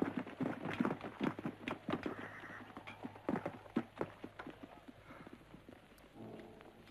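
Cavalry horses' hooves clip-clop on the ground as a squad dismounts, a busy irregular patter of several animals, near and fairly loud at first, thinning out toward the end.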